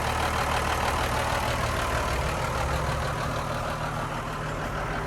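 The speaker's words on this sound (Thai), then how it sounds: "ใช้เครื่องโคมัสู 6D 110 นะครับ6สูบมีเทอร์โบครับ" A Komatsu WA350-1 wheel loader idles close by on its Komatsu 6D110 six-cylinder turbocharged direct-injection diesel. The rumble is steady and even, with no voices and no change in pitch.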